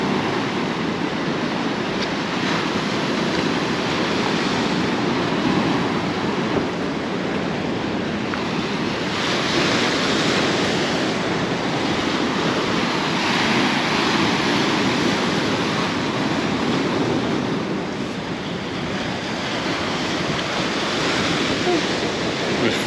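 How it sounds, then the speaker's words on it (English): Waves break and wash steadily against the rocky shore at Portixol, Mallorca, a continuous loud surf roar with gusty wind buffeting the microphone throughout and no clear pauses. "waves splashing up here."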